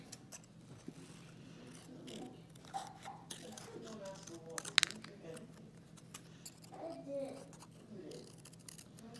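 Scissors snip out a paper leaf shape for a 3D flower craft, with faint, irregular close cuts and rustling and one sharp metallic click, under quiet background talk.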